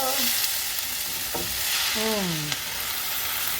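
Sausage and potato hash fries in butter in a pan, a steady close sizzle running throughout with brief scraping stirs and a few tonal squeaks from the utensil against the pan.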